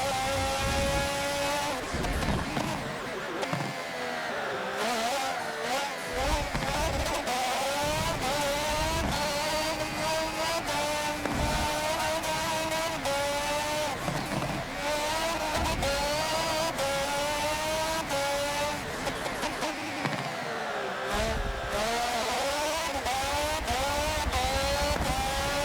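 A race car engine in Forza Motorsport 7 screams through repeated upshifts and downshifts, its pitch climbing and falling in waves over a long lap, loud and with no talk.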